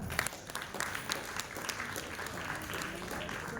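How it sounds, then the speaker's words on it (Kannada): An audience applauds a woman after a humorous poetry recitation at a Women's Day event, a dense patter of many hands clapping at moderate distance that holds steady for a few seconds. "ಅವರಿಗಾಗಿ ಒಂದು ಜೋರಾದ ಚಪ್ಪಾಳೆ"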